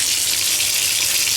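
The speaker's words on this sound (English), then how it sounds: "Let that kind of fill up with water." Water gushes from a tap into a bathtub, a steady, loud hiss of running water filling the tub, unbroken and without voices.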